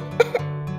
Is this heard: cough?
yes